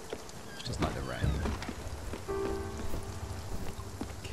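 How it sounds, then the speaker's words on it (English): Rain hisses steadily in Spiritfarer, a soft wash of falling drops under a voice speaking, with brief tonal game sounds layered over it. "Oh, this rain. Will it ever stop?"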